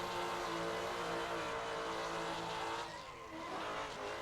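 A race car in the Assetto Corsa driving game drifts through a corner, its engine a loud, buzzing high-revving drone with tyre scrub mixed in, easing briefly near the end before picking up again.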